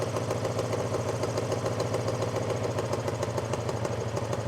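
An old Honda motorcycle, revived after sitting abandoned for 22 years, idles steadily with a slightly hanging idle, its engine chugging in a fast, even pulse close by, alone without voices.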